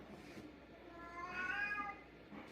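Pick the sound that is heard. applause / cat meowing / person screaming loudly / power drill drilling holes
cat meowing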